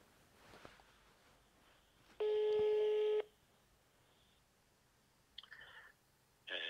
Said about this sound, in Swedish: Vi ringer honom nu.